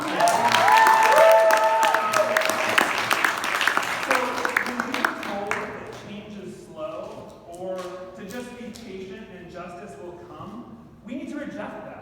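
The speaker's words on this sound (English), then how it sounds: "You should cheer at that." Audience at a community kickoff event cheers and applauds loudly, dense clapping and whoops peaking early then thinning as a speaker's voice takes over under fading applause.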